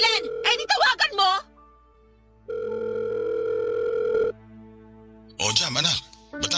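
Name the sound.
telephone dialing and ringing in a radio drama call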